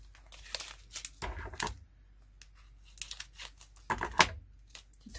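A plastic bag crinkles and rustles in irregular bursts while being handled during diamond painting kit preparation, close and fairly clear, with quieter pauses between handlings.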